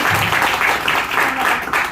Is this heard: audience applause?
yes